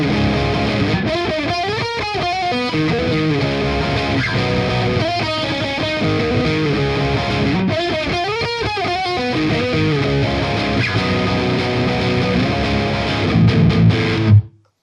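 Ormsby Hype GTR Elite six-string electric guitar with both pickups coil split, played through distortion with strummed chords and ringing riffs, loud and steady throughout before cutting off at the end.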